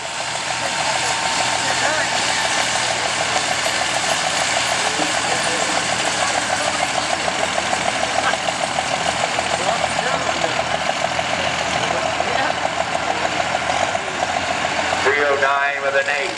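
A Dodge diesel pulling truck sits idling at a county fair truck pull, a steady loud engine rumble running throughout with crowd noise and an announcer talking over it.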